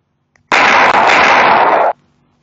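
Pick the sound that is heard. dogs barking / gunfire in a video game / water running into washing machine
gunfire in a video game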